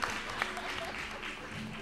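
A conference audience applauds during an inauguration, a continuous wash of many hands clapping at moderate distance, fairly faint and steady, with a brief murmur of crowd noise underneath.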